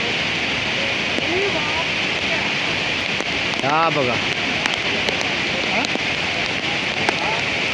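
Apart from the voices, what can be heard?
rainwater streaming down Raigad fort in monsoon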